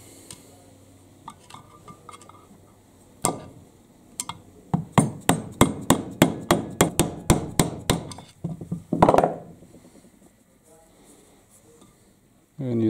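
A hammer strikes a long screwdriver driving out a bearing on an Aprilia RS 125 motorcycle, a close run of about fifteen sharp metallic blows at a steady, quickening rhythm, followed by a scraping clatter and a short spoken word.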